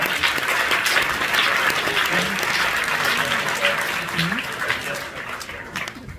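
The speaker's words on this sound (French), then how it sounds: "vous pouvez les applaudir encore" Audience applause at the closing ceremony of the Strasbourg European Fantastic Film Festival, a continuous wash of clapping from a large crowd, loud and sustained before tapering near the end, with a voice talking faintly over it.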